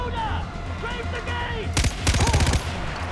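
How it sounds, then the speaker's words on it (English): Gunfire in the video game Far Cry 4: a loud, rapid burst of shots breaks out after a stretch of voice-like sounds, with a second rattling volley following close behind. "Who is shooting me over here?"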